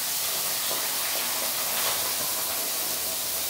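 Parboiled red potatoes crushed and frying in hot oil, a steady loud sizzling hiss that fills the whole stretch without a break.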